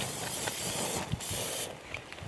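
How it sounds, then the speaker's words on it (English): A steady hiss of an aerosol spray can, fairly close, running continuously with a few small clicks and bumps near the end. "So I'm gonna spray."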